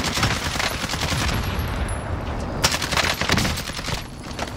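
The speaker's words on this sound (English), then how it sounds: "They're shooting at him." Sustained gunfire crackles in a war video game, rapid overlapping shots in dense bursts, loud and close, with a brief lull before another intense volley.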